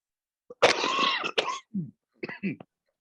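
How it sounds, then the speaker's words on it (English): Several close coughs, a harsh burst followed by a few shorter throaty coughs with brief pauses between, no talking. "sorry, I've got a bit of cough"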